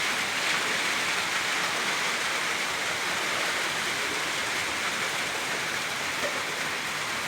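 Steady, even rain pours down in a dense continuous hiss, close and loud, with no breaks or voices.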